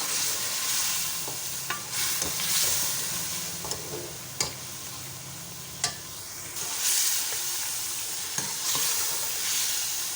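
Beef stew with chillies being stir-fried in a pan, with an ongoing hiss and sizzle broken by several sharp spatula scrapes and knocks at irregular intervals, close and without speech.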